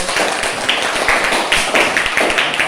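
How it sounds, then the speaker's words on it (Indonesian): A room of students applauds a presenting group in a classroom, with steady, dense clapping that holds throughout at close range. "Kita berikan aplaus dulu"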